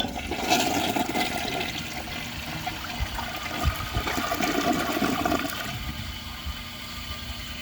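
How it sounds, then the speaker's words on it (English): A Mansfield Alto toilet flushes with a loud, close rush of swirling water that gurgles and then settles into a trickling refill, alone without speech. "It's got a pretty nice flush too."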